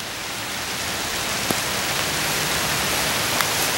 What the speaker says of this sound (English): we've got another delightful rain starting to fall